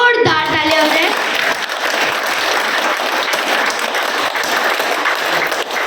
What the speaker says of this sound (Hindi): सभी लोग अपना एक हाथ ऊपर करें और दूसरा हाथ भी ऊपर करें और जोरदार तालियां हो जाए।